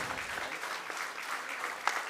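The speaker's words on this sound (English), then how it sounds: "So let us give a big round of applause to Madhav bhai." Audience at a talk giving a round of applause for Madhav bhai, who runs a building and dining service, a steady, moderately quiet wash of many hands clapping.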